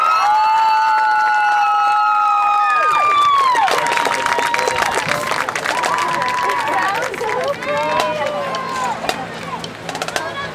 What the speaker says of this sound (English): Another round of applause for Alabama Christian Academy,